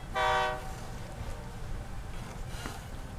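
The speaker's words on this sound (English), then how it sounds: "I'm so excited we're on the train" Short horn blast from a train, loud and harmonic for about half a second, followed by the steady low rumble of a moving train car heard from inside while riding.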